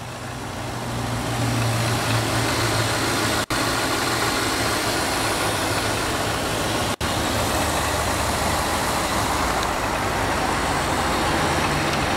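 A 2003 Cadillac Deville with the 4.6 liter Northstar V8 idling, a steady even engine hum heard close and unbroken for the whole stretch, with two tiny dropouts.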